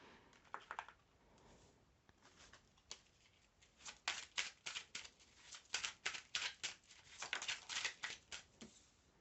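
Oracle cards are shuffled by hand in quick, soft riffling bursts that grow busier and louder partway through, close and quiet with no talk.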